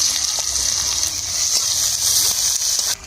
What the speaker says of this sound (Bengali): কড়ার মধ্যে তেল দিয়ে দেবো, শুকনো লঙ্কা ফেলে দেবো, ফোড়ন করব, কুচানো পেঁয়াজ দিয়ে দেবো।